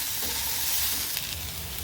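Spiced masala sizzles and crackles in a hot pan for a chickpea and small potato gravy, with a steady frying hiss and occasional stirring, close up, no voices.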